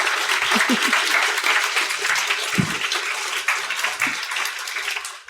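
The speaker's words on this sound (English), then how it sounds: "Final clap." Audience at a live panel event in The Hague gives a final round of applause, a dense, steady clapping that fills the room for about five seconds, with a few voices faintly underneath, before it tapers off at the end.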